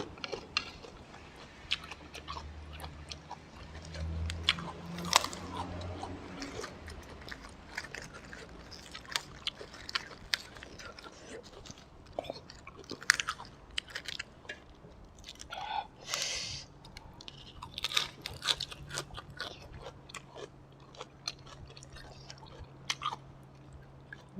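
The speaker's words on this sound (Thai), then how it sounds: "นี่เลยผักกรอบ ๆ" Crunchy raw vegetables served with a Thai spicy chicken-feet salad are bitten and chewed close to the mic, giving repeated wet crunches and smacking bites over a low steady hum, with no talking.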